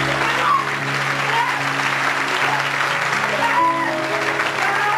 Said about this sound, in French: On acclame encore le Seigneur de gloire.